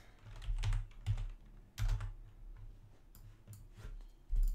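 Keys clatter on a computer keyboard in quick irregular bursts with short pauses between them, close and fairly loud, while a design is made in Photoshop.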